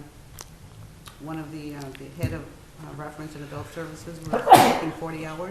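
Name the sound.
sneeze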